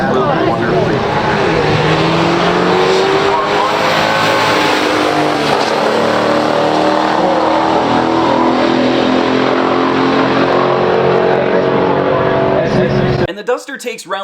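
Two 1971 muscle cars, a Duster 340 and an AMC Hornet SC/360, in a stock drag race; a loud, continuous engine roar fills the run, with a voice heard over it, before cutting off abruptly near the end.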